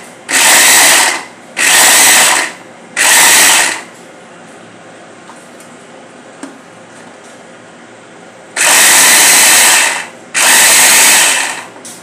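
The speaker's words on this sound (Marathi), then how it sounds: "बघा तर फ्रेंड्स, अशा प्रकारे मी चॉपर बोर्ड मधून कांदा करून घेत आहे" A manual pull-cord vegetable chopper whirs through onion in five loud, separate bursts of about a second each, with quiet pauses between them and a longer gap before the last two.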